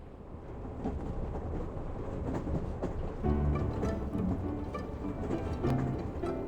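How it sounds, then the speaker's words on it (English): A train pulls into the Lumio City station in the video game Pokemon Legends Z-A, with a low rumbling roll and clanking sounds that swell partway through, played fairly quietly without voices. "Train has arrived in Lumio City."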